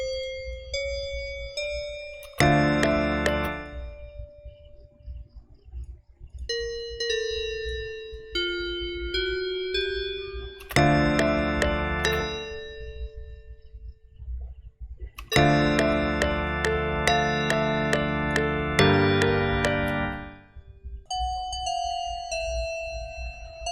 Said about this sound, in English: We have some bells.